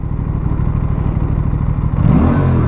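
An Aprilia RS 457 twin-cylinder sport motorcycle engine runs close and loud with a steady throbbing idle, then a sharper surge and revving rise near the end.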